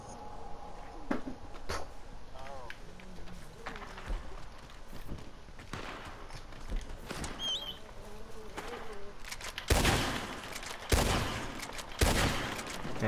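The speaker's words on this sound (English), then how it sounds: "Who's shooting me?" Gunfire in Red Dead Online during a shootout in Valentine: sparse distant cracks, then several loud, sharp blasts near the end, with footsteps and bird calls in the background.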